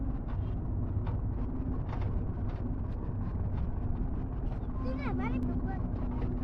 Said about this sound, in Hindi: धीरे धीरे ट्रैक्टर जा रहा है।